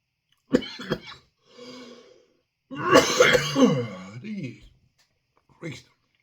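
A person coughs in several separate bursts, some followed by throat-clearing and hoarse, strained vocal sounds, close to the microphone in an otherwise quiet room.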